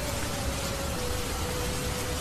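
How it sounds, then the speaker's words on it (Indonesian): Steady heavy rain falling outdoors on a wet road, a dense continuous hiss that stays loud and even throughout with no talk. "Ini jadi dari tadi hujan terus kelihatan ya, untuk jalannya ini basah semua."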